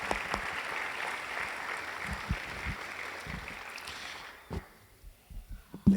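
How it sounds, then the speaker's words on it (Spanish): A church congregation in Itagüí gives a loud round of applause to the Lord, a broad wash of clapping that fades out toward the end, leaving a few isolated claps and knocks. "Le damos un fuerte aplauso al Señor"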